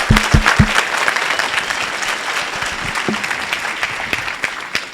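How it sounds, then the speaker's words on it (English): A workshop audience breaks into a loud round of applause, dense hand claps swelling at the start with a few sharp near claps, then settling into a steady crackle that slowly thins toward the end. "give Aaron one more big round of applause."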